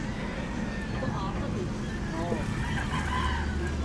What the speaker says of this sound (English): Got the fighting chickens too.